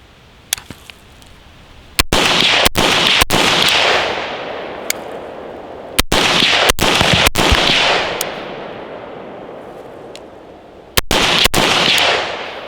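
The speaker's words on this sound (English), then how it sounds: "let's go ahead and send some rounds downrange" Rifle shots fired downrange at an outdoor range: loud sharp cracks in small clusters, each followed by a rolling echo that slowly fades, with no talk.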